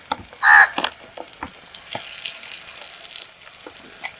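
Quail pieces drop into a pan of fried ginger and garlic paste, giving a brief burst of sizzling followed by a quieter, steady crackle with scattered stirring clicks.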